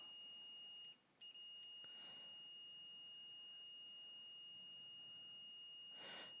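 A brief electronic continuity beep from a multimeter probing PlayStation 2 circuit board pins rings out near the start, followed by quiet room hiss and a soft breath-like noise at the end.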